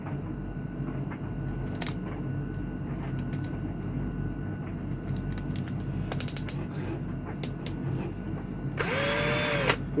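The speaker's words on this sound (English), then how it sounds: "a normal DeWalt hand drill" A DeWalt hand drill bores into a die-cast metal toy van, a Matchbox Lesney No 23 VW Campervan, with steady whirring and grinding at close range. A brief, louder high whine of the motor comes near the end.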